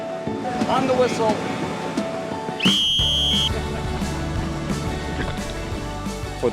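A sharp, loud referee-style whistle blows for about a second to start the 31st annual 5K Steeler Run, an outdoor race with over 2,000 participants, over the murmur of a crowd and open-air noise.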